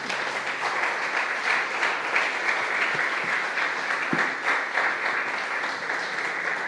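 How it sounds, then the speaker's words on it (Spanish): Church congregation applauding at the close of a Spanish-language service, a sustained, even burst of many hands clapping that fills the room steadily from start to finish. "pues démosles un aplauso a Dios"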